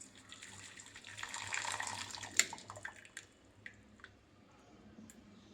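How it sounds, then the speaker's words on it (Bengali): Hot water poured from a kettle onto second flush Darjeeling tea leaves, a soft, faint splashing stream that swells and then trails off into a few light drips and taps. "এই আমি গরম জল এখানে ঢেলে দিচ্ছি"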